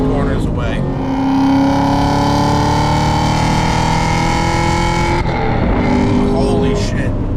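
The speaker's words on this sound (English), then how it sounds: "This car is so loud." A 1,000-horsepower Hennessey-tuned Cadillac CT5 Blackwing roars loudly on the street, its engine note climbing through a long pull, briefly dropping at a gear change, then rising again, heard from inside the car.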